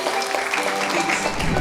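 An audience at a Brahma Kumaris women's programme applauds to honour the guests after a children's performance. The clapping is steady and fairly full, with sustained tonal music running underneath throughout.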